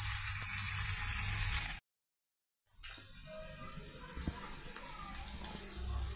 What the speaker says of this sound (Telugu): ఇప్పుడు ఆయిల్తో పచ్చిమిర్చి, పెద్దల్లిపాయ పీసెస్, కర్రీ లీవ్స్, తిరగమాత గింజలు అన్నీ ఫ్రై అవుతున్నాయండి.